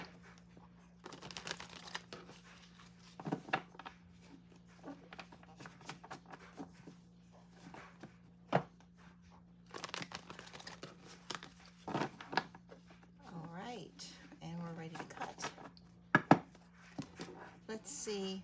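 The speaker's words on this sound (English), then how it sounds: "Let's do 2 more shuffles." Tarot cards shuffled by hand during a card reading: quiet, close bursts of riffling and flapping card sounds recur over a low steady hum, with a voice speaking between shuffles.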